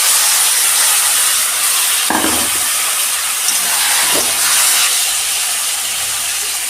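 Spinach hitting a hot pan for a Bengali home recipe, a steady loud hissing sizzle of steam throughout, with a couple of brief stirring knocks.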